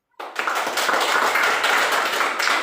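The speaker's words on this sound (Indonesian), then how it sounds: "Sekali lagi kita berikan aplaus untuk kelompok penyaji" A lecture class applauds the presenting group, a dense, steady wash of many hands clapping that starts abruptly and holds at full strength to the end, with no talk over it.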